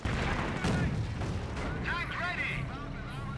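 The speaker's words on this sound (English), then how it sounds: "nice incendiary mortar" Incendiary mortar rounds landing in Company of Heroes, a dense run of booming, crackling artillery impacts with whistling tones, loud and continuous under a speaking voice.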